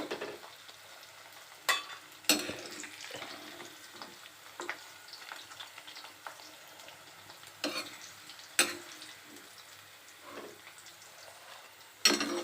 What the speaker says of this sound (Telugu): ఇలా మంచి కలర్ వచ్చే వరకు ఫ్రై చేసుకొని